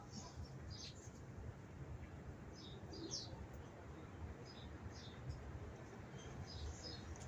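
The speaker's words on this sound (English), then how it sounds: "it's a bird." A bird chirps outdoors in a few faint, short, high chirps over steady low background noise, quiet and somewhat distant.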